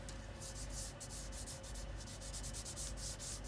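Printed brick paper strip being rubbed down onto card, a close, steady scratchy rubbing made of repeated short strokes in an even rhythm, quiet and with no voices.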